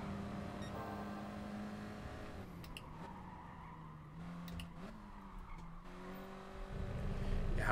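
A race car in GT Sport career mode, with a steady engine drone and a sustained, wavering tire squeal through corners, fairly faint and continuous, swelling louder at the end.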